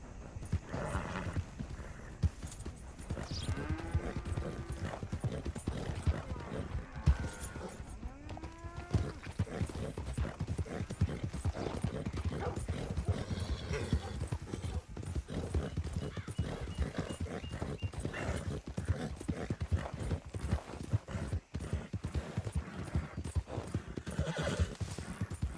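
Galloping horse hooves in Red Dead Redemption 2, a steady fast clip-clop running under music and ambience throughout, with occasional whinnies and a voice speaking briefly.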